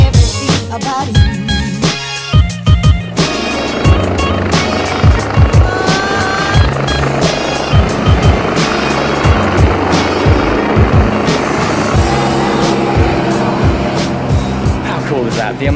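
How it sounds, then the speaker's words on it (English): Helicopters fly over Monaco, their rotor chop mixing with passing cars and street noise, and people talk over the busy scene. "The amount of helicopters flying in and out of Monaco is every few minutes."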